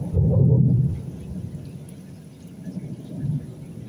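A strong night thunderstorm heard from indoors, with a low rumble of thunder swelling loud at the start and steady rain noise continuing beneath, then a softer second rumble near the end.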